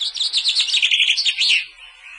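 A chaffinch perched on an apple-tree branch by a hedge, singing a bright, rapid run of high chirping notes that tumbles down into a closing flourish, close and clear with no voices.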